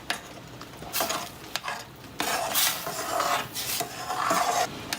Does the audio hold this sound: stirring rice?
yes